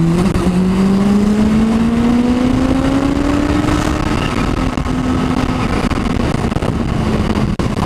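Kawasaki H2 motorcycle engine revving loudly and close by, pitch rising steadily through several seconds, then holding at a high, sustained note with no talk.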